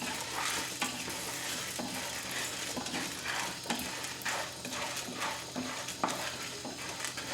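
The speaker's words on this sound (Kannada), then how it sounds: "ನಂತರ 1/4 ಕಪ್ಪಷ್ಟು ಕಡಲೆಬೇಳೆ, ಅದನ್ನು ಚೆನ್ನಾಗಿ ಹುರಿದುಕೊಳ್ಳಿ." Chana dal sizzling as it fries in about a spoonful of oil, stirred steadily with a spoon in the pan, with a continuous crackling hiss and frequent scraping clicks throughout.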